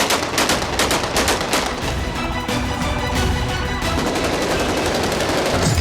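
Celebratory AK-47 gunfire rings out in the streets as Syrian rebels shoot in the air, a loud, dense stream of rapid automatic bursts and overlapping shots running continuously without pause.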